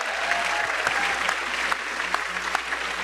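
Steady applause from a conference audience, dense continuous clapping filling the whole moment at a fairly loud, even level.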